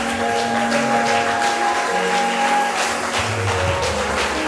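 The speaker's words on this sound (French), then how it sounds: "Encore une fois, donne-lui des acclamations." Sustained applause and cheering from a church congregation at a worship service, a continuous dense crowd roar with held keyboard chords beneath, fairly loud and unbroken for the whole stretch.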